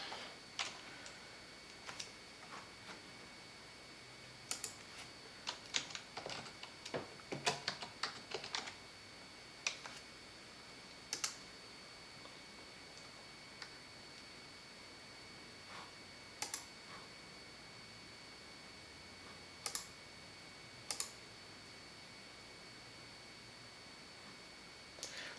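A search is typed on a computer keyboard, quiet scattered keystroke clicks in short bursts and single taps separated by pauses, close and alone in a quiet room.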